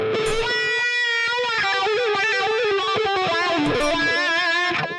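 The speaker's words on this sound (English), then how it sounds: "if I kick on the wah pedal, then" Electric guitar through a wah pedal plays a quick distorted riff, loud and close, with the sweeping vowel-like tone shifting continuously across a string of fast notes.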